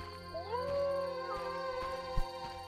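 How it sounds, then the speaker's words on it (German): A dog in The Witcher howls at the moon, one long rising then sustained wail that slowly fades, fairly close and clear over a quiet game ambience, with no talking. "Es sieht so aus, als ob der den Mond anheult."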